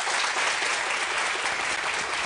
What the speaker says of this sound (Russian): Никита, это тебе аплодисменты.